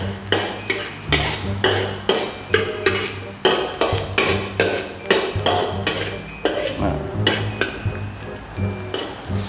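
Pork stuffing being stir-fried in a pan over medium heat for stuffed omelette, with a steady rhythm of spatula scrapes and clinks against the pan over a continuous sizzle, close and fairly loud, no voices.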